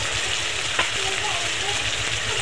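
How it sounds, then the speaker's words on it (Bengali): Mustard and poppy seed spice paste with turmeric and a little salt fried in a pan for a fish curry, giving a steady close sizzle with a couple of faint clicks of stirring. "মশলাটাকে ভালো করে কষিয়ে নেব।"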